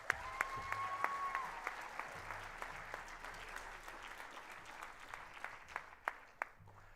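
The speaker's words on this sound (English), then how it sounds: "Let's give them one more round of applause" Audience applause for an 8th grade band after its concert piece, a broad steady wash of clapping that slowly thins out, with a few sharp individual claps standing out near the end.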